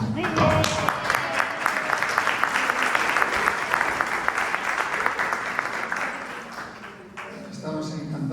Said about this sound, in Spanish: Estamos encantados con que os aplaudáis vosotros a vosotros mismos.